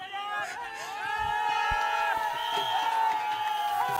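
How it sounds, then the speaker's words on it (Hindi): At a local cricket league final in Punjab, a crowd erupts in cheers and whoops after a hat-trick delivery. The noise is loud and sustained, and a commentator talks over it. "जोरदार तालियों के साथ स्वागत करें इस हैट्रिक के लिए"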